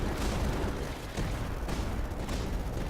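Cannon tower fire in the strategy game Tower Dominion, a dense run of booming shots and blasts in a steady barrage, loud and close with no pauses.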